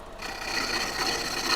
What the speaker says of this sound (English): this gouge, really inexpensive for what it is, and I'm really happy with how it sharpens and cuts